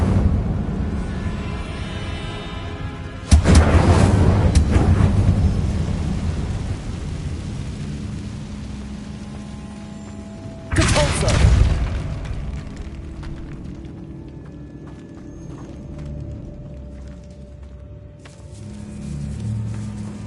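Incendio fire spell cast in the Hogwarts Legacy video game inside a decayed catacomb, heard as two loud, sudden booming bursts of flame, each followed by a long rumbling, crackling decay, with no talking.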